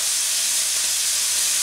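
Chinese sausage and Vietnamese pork sausage frying in a pan, a loud, close, steady hiss of sizzling fat that holds unbroken throughout.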